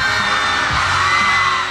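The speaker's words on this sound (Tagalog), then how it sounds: "Nakabibingi ang sigawan at tilian ng isa-isang lumabas sa entablado si Napu" A loud, dense crowd shrieks and screams without letup as celebrities come onstage at a Filipino fan event, the noise close and overwhelming throughout.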